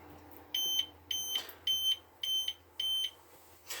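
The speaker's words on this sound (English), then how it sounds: "that beeping lets you know when it's full" Five short, high-pitched electronic beeps from a HomCom tabletop dishwasher signalling its water tank is full, in an even rhythm, loud and close, each lasting about a quarter second over a faint background hum.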